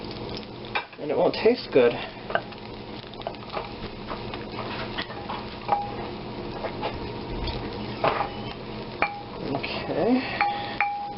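Butter foaming in a hot pan while chicken breasts are poached in it, giving a steady soft sizzle with scattered clinks of utensils against the pan, and a person talking over it.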